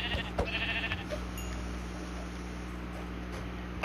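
Sheep bleating in the Minecraft PS4 Edition game, a few short blips over a steady low drone of game ambience, fairly quiet and without talk.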